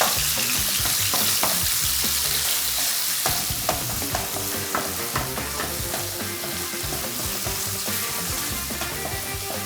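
Ground chicken stir-fries in a hot pan, a continuous bright sizzle broken by frequent scraping and clacking strokes of a utensil, close and steady throughout.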